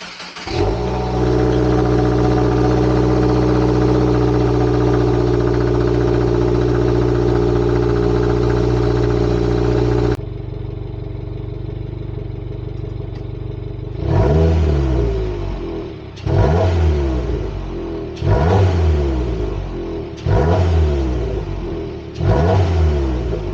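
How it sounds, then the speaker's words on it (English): A 2022 Subaru WRX on its stock exhaust, recorded from between the twin tailpipes, starts and settles into a loud, steady idle drone for about ten seconds, then drops and gives five sharp, rising revs in quick succession. "notes or exhaust clips before we put the new exhaust on"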